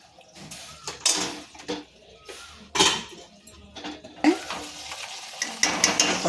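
Ivy gourd curry being stirred in a pan, with intermittent scraping and clattering strokes of a spoon against the metal over a faint sizzle, several distinct bursts close by.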